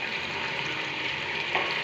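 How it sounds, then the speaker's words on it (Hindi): Onions dropped into hot oil give a dense, even hiss and crackle, close and steady for a brief moment with no voices. "सबसे पहले मैंने ऑयल लिया है, उसको गर्म कर लिया है और अब इसमें मैं प्याज डाल रही हूँ"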